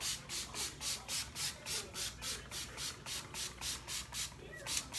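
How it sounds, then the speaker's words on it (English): A hand-pumped spray bottle mists hair, about a dozen even, rhythmic hissing spritzes in quick succession, close and clear with no talking. "I go ahead and take my spray bottle and make sure I go ahead and mist it"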